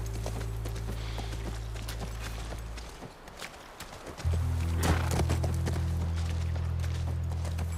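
Steady hoof clopping from a horse in The Last of Us Part 1 Remake on PS5, with a low droning backdrop, the hoofbeats continuing throughout at an even pace, fairly close.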